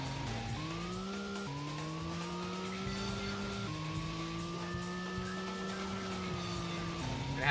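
Turbocharged race cars in the Racing Lagoon video game roar steadily, the engine pitch climbing and then dropping at each gear change, with a faint tire squeal under the continuous engine note.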